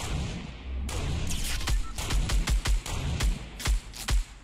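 Rapid gunfire in Fortnite, a string of sharp shots cracking in an uneven rhythm, about a dozen reports over a few seconds, close and punchy against background game noise.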